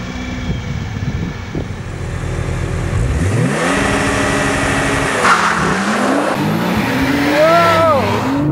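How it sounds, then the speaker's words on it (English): Nissan GT-R launching hard in Sport Plus from a brake-held standing start during a race against a Porsche 911 Turbo S, a loud engine roar climbing through rising gear pulls, heard from inside the car with a voice talking early on. "So dropping it to D, Sport Plus, foot on the throttle, foot on the brake, let it go."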